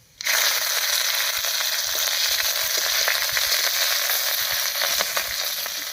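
Slit green chillies hit hot mustard oil and set off a sudden, loud, crackling sizzle that holds steady and close throughout.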